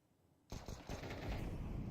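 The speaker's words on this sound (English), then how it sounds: "the Beaver is going to get shot in the back." Sudden rapid gunfire bursts out in a competitive shooter video game match after half a second of near silence, a quick rattling volley of close shots that continues densely to the end.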